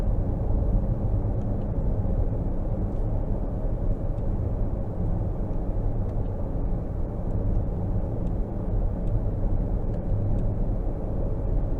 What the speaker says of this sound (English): But a really smooth ride coming down the interstate here.